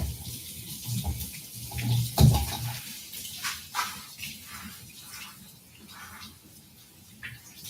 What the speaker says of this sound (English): so let's just give this a quick rinse